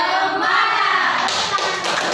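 Classroom of children doing a rhythmic spirit clap in a lesson, steady dense hand claps with children's voices calling out over them.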